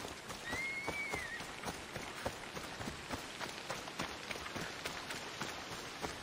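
Steady rain patters on surfaces in the video game Assassin's Creed Odyssey, with soft, regular running footsteps through it, faint and continuous with no talk.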